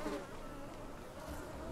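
Steady buzzing of bees or similar insects in the fantasy game Skyrim: Enderal, a continuous droning hum that holds at an even level throughout, with no talk over it.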